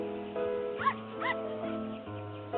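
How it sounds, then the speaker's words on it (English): A litter of five newborn puppies gives a few short whimpers and high yips in a calm narrated children's story, set over soft background music. "they find a litter of newborn puppies."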